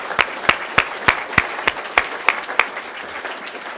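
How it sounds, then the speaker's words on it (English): Sparse, evenly paced clapping at an awards ceremony, about nine distinct claps ringing out in a steady rhythm before fading into quiet room tone. "So please, a round of applause for Amie."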